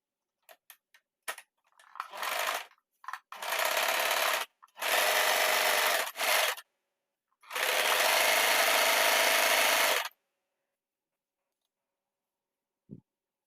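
Usha Janome Wonder Stitch Plus sewing machine with a picot foot stitching along the lower edge of a bedsheet frill, in several close, loud bursts of rapid mechanical stitching separated by short pauses and a few clicks.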